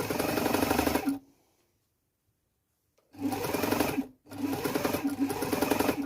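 Sewing machine stitching a scrunchie, running in steady, loud bursts of rapid mechanical chatter, stopping for about two seconds, then starting again in two more runs.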